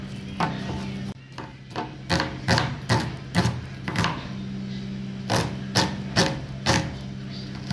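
A vegetable chopper cuts onions and greens with repeated hard clacks, sometimes in quick bursts and then spaced apart, over a steady low hum, close and fairly loud.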